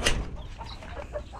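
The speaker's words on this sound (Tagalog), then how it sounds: "Ayan yung bagong bili na tandang." A newly bought rooster clucks near a rural nipa hut, giving a few low, short clucks over soft background noise.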